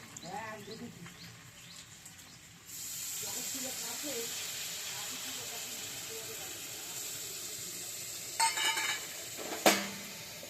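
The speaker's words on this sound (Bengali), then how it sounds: "যেহেতু এটা গুঁড়ো মশলা, তাই আমি একটু সামান্য জল দেবো।" Water poured onto cumin, coriander and chilli powder frying in a pan for potato curry, a sudden strong hissing sizzle that holds steady, with a couple of sharp utensil knocks and a voice heard early on.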